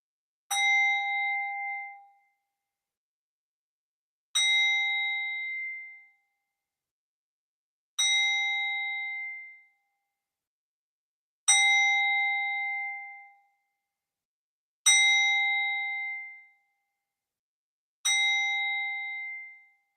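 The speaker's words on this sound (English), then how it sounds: "Let's ring this bell." A bell with a clear metallic ring is struck six times at even intervals of about three and a half seconds, each strike ringing out for a couple of seconds before fading, nearby and alone with no talk.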